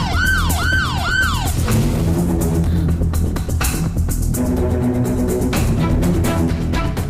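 Wailing ambulance siren sounds loudly in a dramatic indoor scene, its rising and falling sweeps repeating a few times at the start before fading into a busy, noisy mix of traffic and commotion, no speech.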